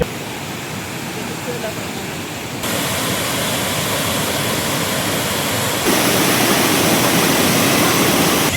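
Tinuy-an Falls waterfall roaring as a dense, constant broadband rush of falling water, loud and close, swelling in steps as the view approaches, with no voices over it.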